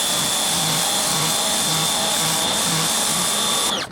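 A pressure washer with a power nozzle sprays a driveway in a loud, steady high-pitched hiss and roar, with a faint pulsing motor hum underneath, cutting off abruptly at the end.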